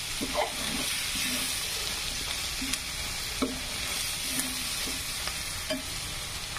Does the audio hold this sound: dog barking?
no